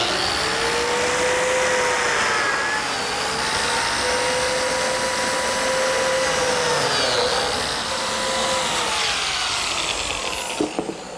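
A biscuit joiner cuts slots in wooden trim with a loud, close motor roar that runs steadily throughout. Its whine rises and falls in several cutting cycles.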